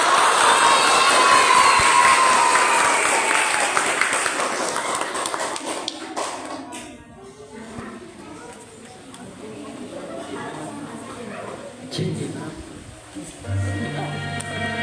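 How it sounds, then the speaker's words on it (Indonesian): Children at a school Ramadan welcome event at SDN 016 Galang cheer and clap loudly for two storytellers, a dense burst that fades after a few seconds into scattered chatter, shouts and rustling. "Kepada Kak Jani dan Kumin kami persilakan tepuk tangan yang meriah ya teman-teman"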